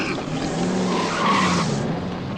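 A car's tires skid and squeal loudly and continuously as it overtakes another vehicle on the road, a sustained screech lasting a couple of seconds.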